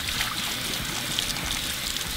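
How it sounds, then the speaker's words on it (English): Rice being rinsed with cold water for arroz con leche: a steady, hissing trickle of running water that stays constant throughout the short stretch, with no voices. "first we're going to start by rinsing our rice with cold water"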